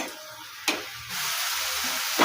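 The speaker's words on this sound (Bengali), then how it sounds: "মশলাটা আমার কষানো হয়ে গেছে, গা দিয়ে তেল ছেড়ে যাচ্ছে" Spice paste frying in oil in a pan, a soft hiss that swells into a steady, louder sizzle, with a couple of sharp spatters, no talking.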